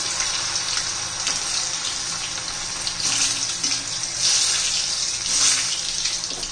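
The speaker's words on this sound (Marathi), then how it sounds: "आपण हे पीस असे घालून घेऊया त्याच्यामध्ये तेलामध्ये तळून घ्यायचे आपल्याला हे बनाना पीस" Banana pieces dropped into hot oil fry with a steady, loud crackling hiss that continues without a break, carrying surges of bubbling throughout.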